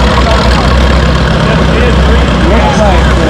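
An old diesel tractor engine roars under heavy load while pulling at a tractor pull, a loud, dense low rumble throughout with a voice talking over it.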